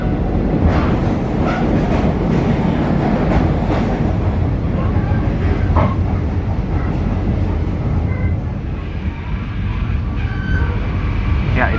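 A train hauled by a vintage-livery locomotive rolls through Rajawali station, a loud steady rumble of wheels and carriages heard from on board, with faint clicks over the rails throughout.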